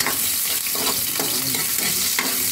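Garlic and ginger frying in hot oil for squid adobo give a loud, continuous sizzle, with a utensil scraping and stirring through the pan in short repeated strokes.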